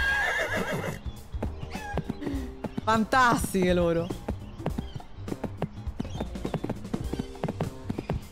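In a video game set at a school with chickens running loose, a horse lets out a loud, quavering whinny midway, surrounded by repeated hoof clip-clops, while someone talks over parts of it.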